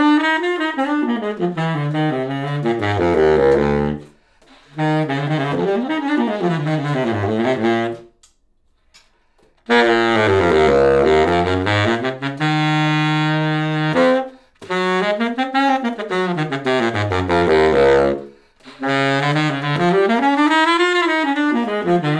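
Baritone saxophone with a Barry mouthpiece at a 100 tip opening and a Rovner leather ligature, played alone in several sustained melodic phrases with sliding pitch, separated by short pauses, close and fairly loud.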